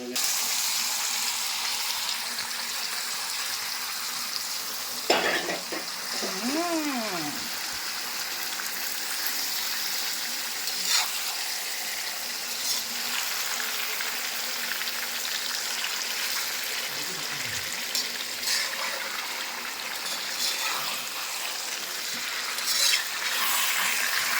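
Chicken fries in oil and is stirred in a pan for biryani, a steady sizzle running throughout with occasional scrapes and clinks of the spoon and a brief squeak, fairly close.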